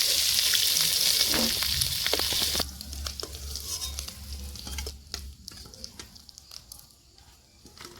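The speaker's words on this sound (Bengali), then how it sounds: "মাছ ভাজা হয়ে গেছে" Fish frying in hot oil in a pan, a loud close sizzle that drops off partway as the pan is disturbed, followed by softer crackling, clatter and scraping of utensils.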